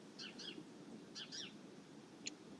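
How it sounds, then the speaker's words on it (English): A few faint bird chirps, two quick pairs of high trills and a single short call, distant over soft outdoor background noise. "I know that bird's there,"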